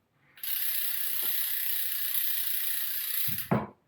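A bicycle front wheel freehub ratchets steadily while spinning freely during a Trifox X16 bike build, a continuous close buzzing click that runs for about three seconds, ending with a brief handling knock.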